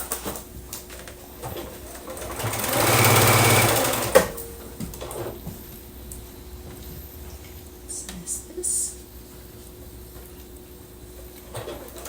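A sewing machine runs one short burst of stitching along a quilt seam for a Hugs and Kisses quilt block, then falls quiet, leaving faint ticks and soft bird coos in the background.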